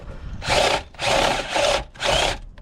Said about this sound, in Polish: A od dołu pojedziemy tego rodzaju otwornicą, żeby nam no, tu no, wkrętarka weszła.